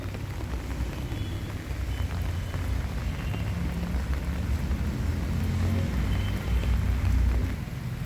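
Steady rain falls on a natural farm field planted with peas, okra and beans, a dense continuous wash with low rumbling undertones and no voices.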